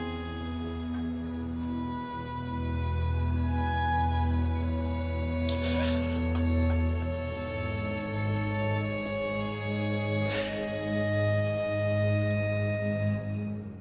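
A six-note melodic theme from a film score plays with a counter melody layered on top, sustained tones over a low droning bass, two brief bright swells rising midway.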